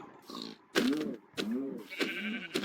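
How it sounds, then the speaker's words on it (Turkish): Video game sheep bleat several times in quick succession, loud and close, each call wavering. "Burada böyle koyunlar çıkıyor."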